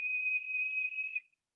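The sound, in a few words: whistling sound imitating air through pursed lips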